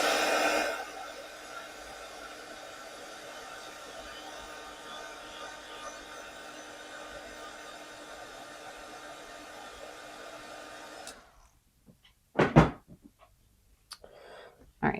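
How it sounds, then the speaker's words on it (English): A hair dryer blows over watercolor paint with a steady whooshing hum for about eleven seconds, then cuts off, followed by a few light clicks and taps. "I'm going to pull out my dryer and I'm going to give it a quick once over"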